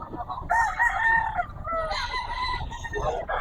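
A rooster crows loudly and close at a gamefowl market, a long drawn-out call followed by a second rising crow, with clucking and market bustle underneath.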